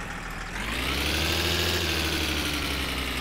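A car engine in the video game My Summer Car revs up and holds a loud, steady, droning idle in neutral, rough and vibrating, with no talk over it.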